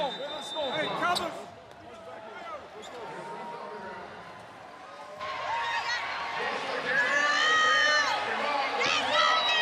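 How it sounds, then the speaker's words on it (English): Arena crowd at a FIBA Asia Cup basketball game between the Philippines and New Zealand, a steady roar that swells louder in the second half, with sneaker squeaks, ball bounces and a commentator talking over it. "the crowd, when they get into it, it really gets loud in here"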